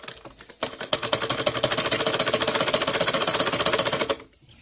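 A sewing machine runs a straight seam through salwar fabric backed with buckram, a fast even rattle of stitches lasting several seconds before stopping abruptly.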